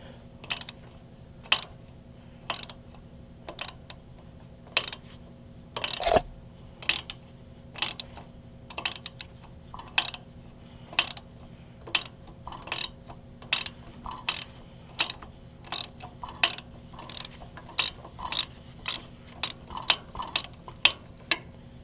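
A ratchet clicks in short, evenly spaced bursts, close and fairly quiet, as the carburetor is taken off a Case VAC tractor that has sat since 1969, with one louder metallic clank partway through.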